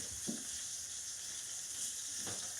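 Steak sears in a frying pan with a steady, close sizzle and two brief scraping stirs of the meat, no talking.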